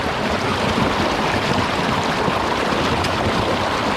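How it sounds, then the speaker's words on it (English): Fresh flowing stream with a small waterfall on a trek near Mt Pinatubo, a steady broadband rush of water close by that holds constant throughout with no pauses. "Nothing like just jumping in the stream, a fresh flowing stream."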